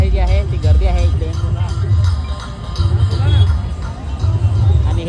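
A large outdoor crowd at a World Tribal Day gathering, with dense, continuous babble from many voices close by, plus nearby speech and a low rumble.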